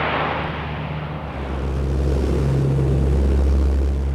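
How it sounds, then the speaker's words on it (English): A ski-equipped C-130 military cargo plane of the Air National Guard's 109th Airlift Wing roars loudly and steadily nearby, with a deep propeller drone and a low hum that grows slightly stronger. "The C-130 is a robust military cargo airplane, first used by the U.S. Air Force during the Vietnam War."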